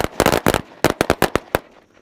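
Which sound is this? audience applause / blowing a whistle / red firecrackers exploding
red firecrackers exploding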